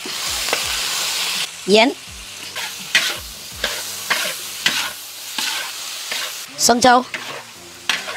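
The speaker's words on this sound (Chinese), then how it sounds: "辣椒先爆炒，肉放进去，来点料酒" Chili peppers and meat stir-fried in a wok outdoors, with steady loud sizzling broken by repeated scraping and clanking spatula strokes; a voice speaks briefly.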